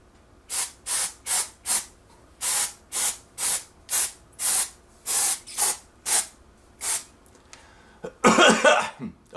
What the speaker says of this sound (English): So I'm going to spray it in now and leave it for 10 minutes